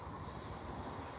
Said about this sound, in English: Oh, this train seriously needs to fuck off. It's making my brain bleed. It's like nails on a chalkboard.